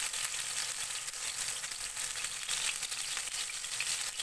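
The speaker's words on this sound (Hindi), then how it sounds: "तवे पे मैं फ्राई करती हूँ, क्योंकि मुझे तवे पे फ्राई हुए भी ज़्यादा अच्छे लगते हैं" Chicken kebabs sizzle and fry on a flat tawa griddle, a steady dense hiss of hot oil running without a break, with no voices.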